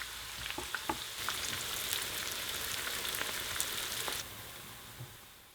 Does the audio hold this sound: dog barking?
no